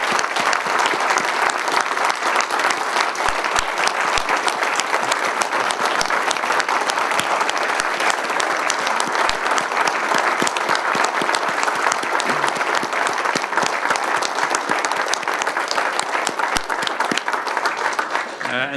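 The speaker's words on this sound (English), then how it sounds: "let's give them a warm applause" Graduation ceremony audience giving sustained applause, dense and steady clapping from a large crowd that continues loudly for nearly twenty seconds.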